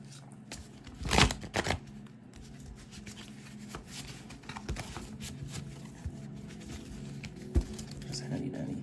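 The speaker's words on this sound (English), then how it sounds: "bear with me for a few seconds as I just shuffle this one more time" A Rider-Waite tarot deck being shuffled by hand, soft papery riffles and taps with a couple of sharper snaps, close and fairly quiet, with a low hum underneath.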